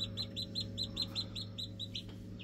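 Newly hatched Blue Buff chicks in an incubator, a steady run of rapid high peeping chirps close by over a constant low machine hum.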